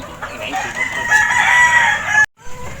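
Hens call close by while being fed, a drawn-out, rising squawk like a crow or loud cluck, cut off abruptly, followed by a brief softer cluck.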